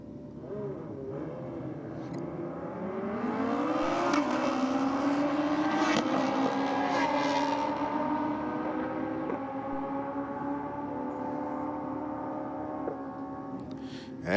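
Two drag racing motorbikes launch from the starting line together, engines climbing in rising harmonic pitch as they pull away, a loud steady wail that fades slightly toward the end.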